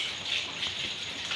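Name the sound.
heavy rain falling outside at 4 am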